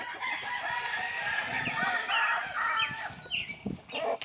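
Bantam chickens in brood pens, including bearded buff laced bantams, with a rooster crowing loud and near over a backdrop of clucking hens, no talk.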